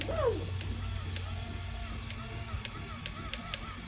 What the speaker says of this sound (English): the little motor's going as well.